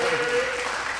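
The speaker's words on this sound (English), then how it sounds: "Y'all can clap it up for that." A studio audience claps during a hip-hop DJ interview show: a short, loud, close wash of applause lasting about a second, with a faint voice underneath.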